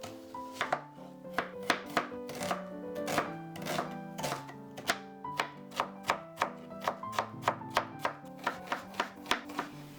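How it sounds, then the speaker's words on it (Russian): Quick, rhythmic knife strokes finely dice onion on a board, a fast run of crisp taps over soft background music. "Подготовила репчатый лук, у меня 800 грамм. Нарезаем мелко кубиками."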